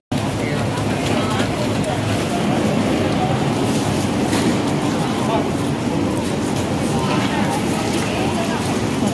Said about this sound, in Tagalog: Pagpasakan na ng MRT.